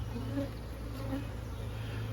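Honeybees droning around an open hive during a beekeeping inspection, a steady close buzzing hum with individual bees passing near, continuous throughout.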